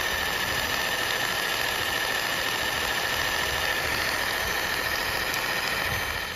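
Ingco 570W electric jigsaw (JS57028P) running at speed setting 3, a steady loud motor whine with broad buzzing vibration that holds constant and close throughout, with no voices.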